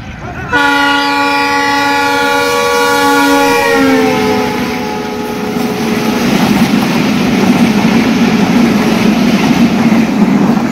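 A passenger train, the Sirajganj Express, sounds a loud, sustained horn for a few seconds, then rumbles steadily past close by through a station.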